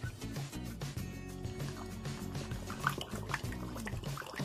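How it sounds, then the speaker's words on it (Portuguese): Leftover water trickling and dripping from a container onto potted leafy plants, an uneven liquid pour with splashes and drips over a low background hum. "Vamos derramar."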